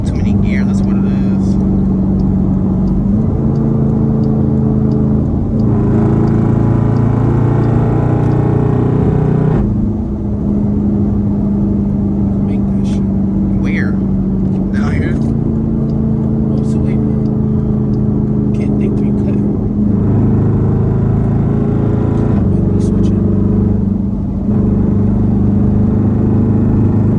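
A straight-piped Dodge Durango SRT heard from inside the cabin, its engine droning loud and low through repeated pulls, with pitch climbing and dropping at gear changes while people talk over it.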